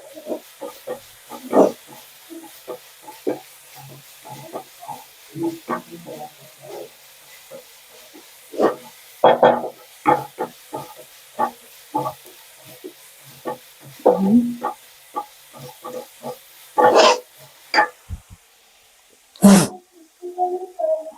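Soya chap pieces roast golden in a pan for soya chap Manchurian, with soft sizzling broken by scattered stirring clatters and scrapes, some louder knocks near the end, and no talk.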